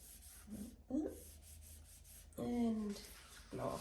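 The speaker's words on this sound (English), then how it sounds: "I'll just blend that just with a clean finger" Soft pastel rubbed and blended across paper with a clean fingertip, a few quiet dry rubbing strokes in short bursts close by, with no one talking.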